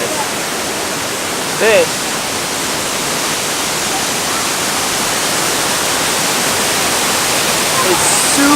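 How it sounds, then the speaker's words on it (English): A waterfall in Bali roars as a loud, steady broadband rush of falling water, close and unbroken throughout, with a brief voice heard faintly over it. "you can also jump at this waterfall here"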